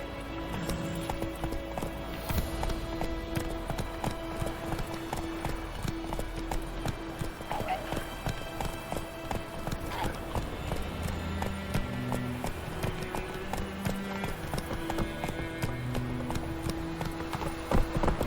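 Roach the horse galloping in The Witcher 3, a continuous fast clip-clop of hooves over steady ambient game sound, close and even in rhythm, with brief snorts or whinnies.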